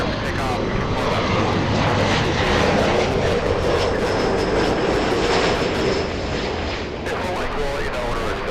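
A Delta heavy jet roars through its takeoff at LAX, a loud broadband engine rumble holding steady for several seconds before easing slightly near the end.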